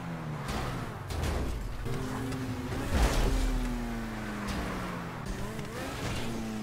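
Car engine in the game GTA Online, a steady droning motor with rising and falling pitch as it accelerates and revs, continuous and fairly loud throughout with no talking.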